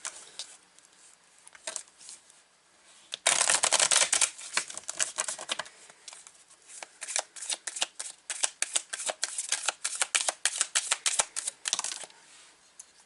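Tarot cards being shuffled by hand, a dense riffling patter of card edges that bursts in loudly after a few quiet rustles and continues in rapid, uneven flurries close to the ear.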